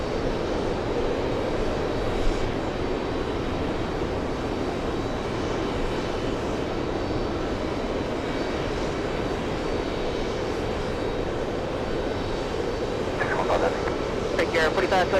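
All Nippon Airways airliner in Pokemon livery at JFK airport, a steady broad engine roar rolling on throughout with faint voices in the background.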